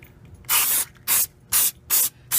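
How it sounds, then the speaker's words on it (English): Brake cleaner sprayed from an aerosol can onto the brakes of a 2003 Mitsubishi Lancer ES, five sharp close hissing bursts in a quick, even rhythm with short pauses between them. "Now time to take my brake cleaner."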